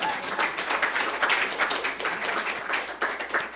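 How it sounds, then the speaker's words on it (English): An audience in a church service hall breaks into steady, moderately loud applause, a dense wash of clapping hands with a few sharper individual claps standing out, lasting a few seconds. "Applaud for that woman, please."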